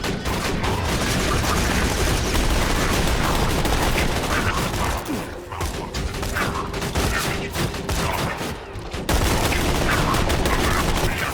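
Sustained automatic gunfire from a sentry gun in Borderlands 2, a dense loud rattle of rapid shots with mechanical clatter that runs nearly continuously, dips briefly midway, then resumes at full force.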